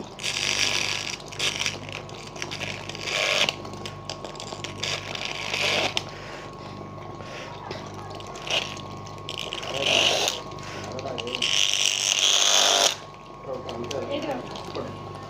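A three-phase motor runs with a steady mechanical whir and rattle while a cutting blade is held against its shaft, giving intermittent scraping and grinding bursts throughout.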